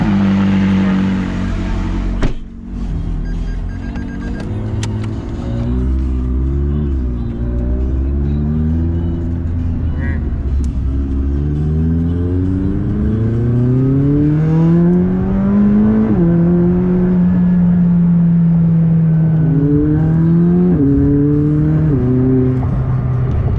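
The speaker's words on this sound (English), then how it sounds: "My first time riding a McLaren." A McLaren sports car accelerating on a ride, heard from inside as the engine rises through repeated gear changes in a stepped pattern before holding a steady loud drone, with no talk over it.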